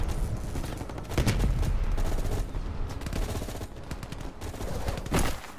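Heavy firefight in Call of Duty Cold War, with crash survivors fending off a VC attack: dense overlapping gunfire and automatic bursts, loud and continuous throughout.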